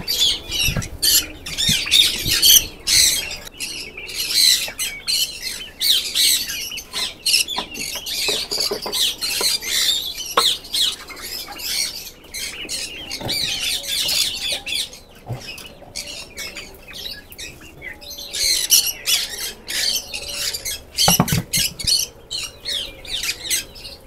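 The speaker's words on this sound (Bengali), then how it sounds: "এখানে সব রিংনেক পাখি আছে" Harsh, repeated squawks from a flock of ringneck parakeets, dense and continuous with scattered scratchy calls and occasional wing or rustle noises; no talking.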